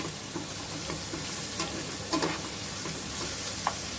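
Freshly crushed garlic and ginger paste fries in a pan, a loud continuous sizzle broken by occasional clicks and scrapes of stirring. No voices.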